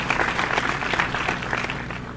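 A short burst of applause sound effect plays, dense steady clapping from a small crowd for about two seconds.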